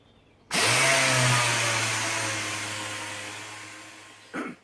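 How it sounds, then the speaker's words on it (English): An air-powered orbital sander works an end-grain wood block and epoxy table top, starting abruptly, holding a loud steady whine and hiss for about four seconds, then cutting off with a brief final burst. "I've done the first pass with the orbital sander, with the air orbital"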